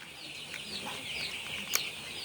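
Broiler chickens in a poultry house cluck softly at a distance over a steady background hum, with one brief sharper call near the end and no talking.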